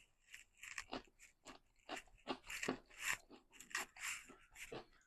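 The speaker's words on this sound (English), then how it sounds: "let's try one of these cucumbers" Crisp, close bites and chewing of a crunchy cucumber served with gado gado, a rapid series of wet crunches heard alone with no talking.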